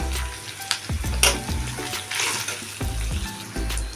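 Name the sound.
frying boiled potatoes with ginger garlic paste in pan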